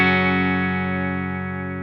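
Electric guitar through a JHS fuzz pedal from the Fuzz Legends set, set with the JHS mode on: a single sustained, thick fuzzed chord rings out loud and alone, slowly decaying over about two seconds.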